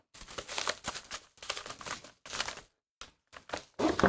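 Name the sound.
unwrapping bubble wrap from a keyboard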